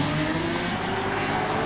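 A rallycross race car flicks through a left-hand hairpin and powers away during a British Rallycross Championship final, its engine a loud, steady, close roar throughout.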